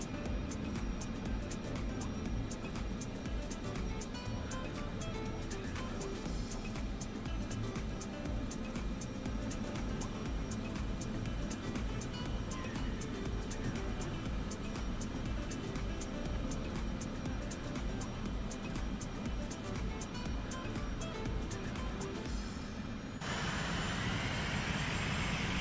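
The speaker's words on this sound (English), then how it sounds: "taxi's pretty good at a low idle" An aircraft in Microsoft Flight Simulator 2024 taxis at low idle, a steady engine hum and whine with a dense rumbling texture, holding constant for a long stretch before a brief shift to a smoother roar near the end.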